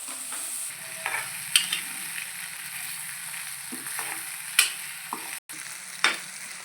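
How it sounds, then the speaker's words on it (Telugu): Potatoes added to browned onions fry in a pan, a steady sizzle running throughout, punctuated by several sharp scrapes and clinks of a spoon stirring at irregular intervals. "ఆలుగడ్డలు వేసుకున్నాయి. ఇప్పుడు కొద్దిసేపు ఆలుగడ్డలు మగ్గించుకోవాలి."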